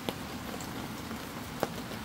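Rain falls outside, a soft, steady distant patter with a couple of sharper drops standing out above the hiss.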